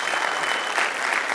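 An audience gives a big round of applause to a guest speaker coming onto the platform, a dense, steady wash of many hands clapping without pause.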